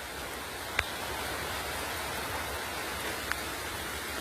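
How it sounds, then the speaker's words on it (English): Steady tropical rain drums on a metal roof, a dense continuous wash of close, even patter with two brief sharper drips standing out. "This is one of those tropical rains."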